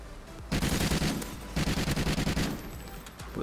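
Rapid bursts of Maverick assault rifle fire in the shooter Call of Duty: Ghosts, two sustained loud volleys separated by a short pause, with steady game background noise underneath.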